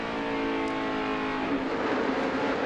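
A NASCAR stock car engine at a Michigan Cup race, steady high-pitched harmonic drone as the driver eases and feathers the throttle, loud and close with no talk over it.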